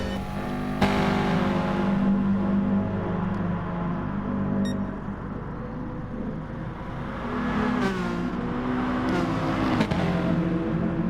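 A Subaru touring car engine races around Brands Hatch in a racing video game, holding a loud, rising and falling whine through gear changes, with other cars whirring past nearby.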